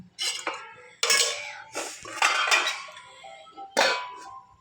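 A metal lid clangs and scrapes onto a steamer pot holding a batch of steaming ukadiche modak, several sharp metallic knocks and rattles close up, with no talking.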